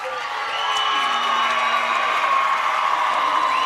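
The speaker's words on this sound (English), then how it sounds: "The Melbourne crowd start to stand and applaud as they count it down." A Melbourne ice hockey crowd rises and applauds at a gold medal game, a dense, loud wash of clapping and cheering that swells and holds steady throughout.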